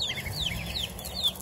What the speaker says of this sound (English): And the chicks are living their life away from the ducks.